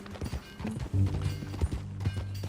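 Horse hooves clip-clop in a steady trotting rhythm in the Red Dead Redemption 2 video game, close and moderately loud thuds mixed with faint creaks of tack and movement, with no talk over them.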